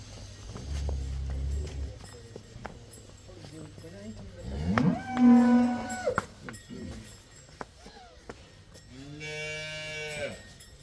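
A black Jersey cow on a farm lets out a long, loud, nearby moo, then a second moo several seconds later, with quiet farmyard noises and a brief low voice in the background.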